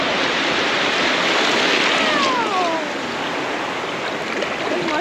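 Clear sea water washes close by on the beach at Sindhudurg Fort in Malvan, a loud, steady, hissing surge with no break.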